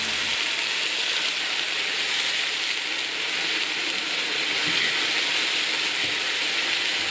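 Tomatoes and ground spices for chickpea curry sizzling in a hot pan, a loud continuous close hiss with faint crackle and an occasional clink, no voices.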